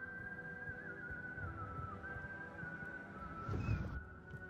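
A person whistling a sustained wavering tone that stays steady for several seconds, with a brief thump near the end and quiet background hum.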